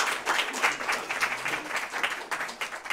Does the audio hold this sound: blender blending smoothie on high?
no